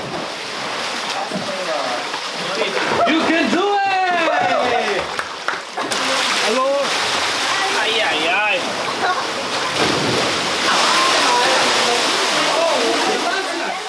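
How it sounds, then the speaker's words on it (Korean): A jungle waterfall in the Dominican Republic roars continuously and loudly, with voices shouting and calling over it. "정글에서 쏟아지는 폭포가 많아"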